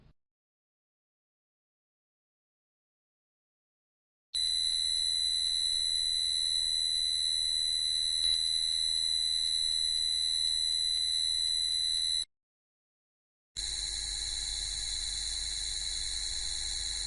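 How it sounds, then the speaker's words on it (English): Two drive motor carrier noise samples from a V1000 drive, a 2 kHz carrier and a swing PWM setting: a steady, loud high-pitched electronic whine held for about eight seconds, then after a pause a harsher, noisier hissing whine, with no talk. "clickable speaker buttons for the standard 2 kHz carrier, the now default swing PWM number 1, and also a sample of swing PWM number 4"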